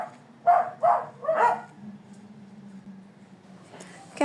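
A dog gives three quick barks in a row, moderately close, followed by a low steady hum and a faint sound at the end.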